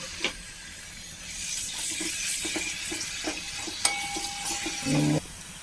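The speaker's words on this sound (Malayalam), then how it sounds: "ഇവിടെ ഉള്ളി ചതച്ചത്, ഉള്ളിയും കറിവേപ്പിലയും ചതച്ചിട്ട് കൊടുത്ത്" Crushed onion and curry leaves frying in a pan give a steady, close sizzle and hiss, punctuated by faint stirring scrapes, with a brief tonal ring and hum near the end.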